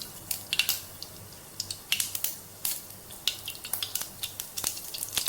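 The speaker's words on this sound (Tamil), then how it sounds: "எண்ணெய் காஞ்சிருச்சு, கடுகு சேர்த்துக்கலாம்." Mustard seeds popping and spluttering in hot oil, a string of quick crackles and pops over a faint sizzle, close and irregular.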